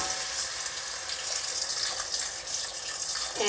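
Water pours steadily into a cooking pot of chopped carrots and vegetables for a Japanese-style potage, a continuous close splashing gush with no talk.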